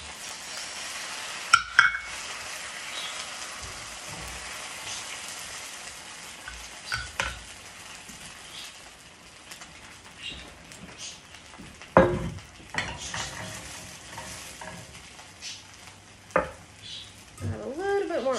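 A scallion pancake and an egg fry in oil in a pan, giving a steady sizzle with several sharp clinks and scrapes of a utensil against the pan.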